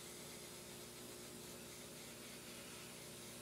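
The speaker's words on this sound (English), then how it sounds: "my spray booth started making a funky noise." A spray booth in a painting workspace gives off a steady, close, broadband whooshing roar with a faint underlying hum, unchanging throughout and with no talking.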